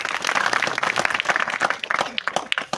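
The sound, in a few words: applause from the audience of farmers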